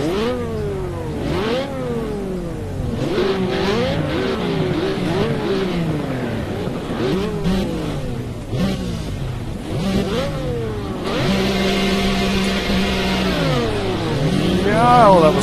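W Motors Lykan Hypersport engine in a racing video game revs and shifts repeatedly, rising and falling pitch sweeps in quick cycles, loud and steady throughout, climbing to a sustained high rev near the end.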